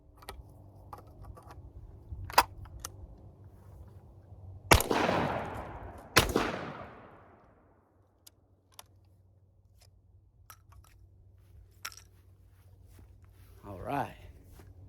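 A 12 gauge double barrel shotgun fires two sharp, loud blasts about a second and a half apart outdoors, each trailing into a rumbling decay, with soft clicks and a faint voice around them.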